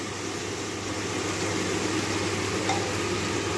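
Water poured into a hot cooking pan sets off a steady, dense sizzle that hisses continuously at close range without a break.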